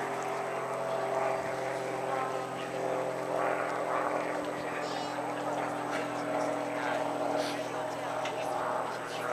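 A warbird aircraft at an air show performing aerobatics, its propeller engine droning steadily at a distance as power eases off, with a commentator talking faintly over the engine noise.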